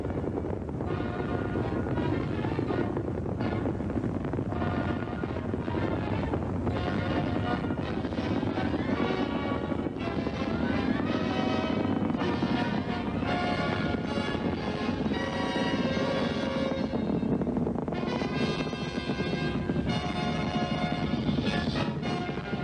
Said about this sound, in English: Engine running. Liftoff. We have a liftoff.